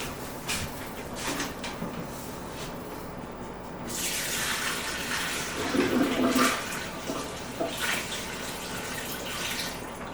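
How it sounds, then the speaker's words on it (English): A kitchen sink tap runs a light stream of water to rinse marinade off a brisket, a steady hiss that swells into a fuller splash partway through, close and alone. "I'm just going to take a light stream here and rinse it off a little bit"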